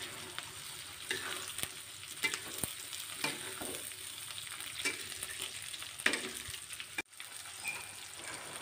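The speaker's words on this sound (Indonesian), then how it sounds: "Kalau bawangnya udah layu, jangan lupa masukkan cabai merah dan juga cabai hijaunya." Onions fry and are stirred with red and green chilies for an oily chicken-in-oyster-sauce dish, a steady close sizzle broken by repeated scraping stirs and a sharp clatter near the end.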